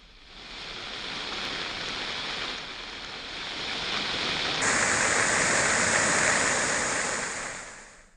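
The swollen Gaula river rushes after rain as a loud, continuous roar of water, steady throughout and growing fuller partway through.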